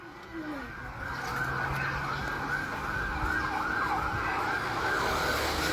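An ambulance siren wails continuously near a fire in Valenzuela City, Philippines, its pitch sweeping up and down, moderately close and steady over background traffic noise.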